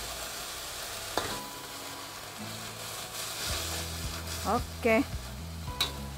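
Pakis fern greens stir-fried in a pan, a steady sizzle with scraping stirs and a few sharp utensil clanks, under brief speech from a nearby cook.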